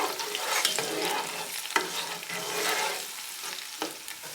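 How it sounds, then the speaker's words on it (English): Onions and garlic sizzle in a pan while being stirred for French-style moules marinière, with repeated scraping strokes over a continuous frying hiss and no voices. "You just stir these up and you let it heat until the onion is translucent and see-through."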